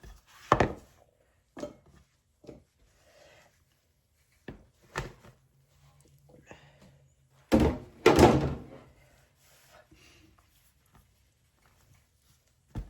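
Banana bread loaf being turned out of a metal baking pan in a home kitchen: a few sharp thunks and knocks, with a heavier cluster of bangs midway, then quiet rustling.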